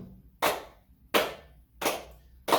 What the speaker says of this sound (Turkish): Dolayısıyla böyle alkışlayacağız.